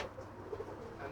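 A pigeon coos briefly and faintly in an outdoor loft setting, with soft background noise around the low call.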